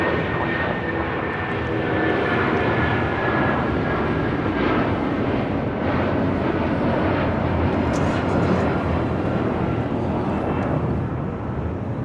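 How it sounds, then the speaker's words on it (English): United Airlines Boeing 757-200 departing LAX for Newark, a loud, sustained jet engine roar building through the whole takeoff run, with no voices. "Now taking off is United Airlines 1488, taking off to Newark on a 757-200"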